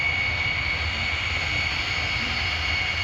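Jet-powered semi truck on the throttle, a steady loud roaring jet whine with a high sustained tone over rumbling low end, continuous and without talk.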